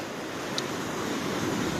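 Waves wash at coastal tide pools as a steady, even roar of surf with some wind noise, no voices.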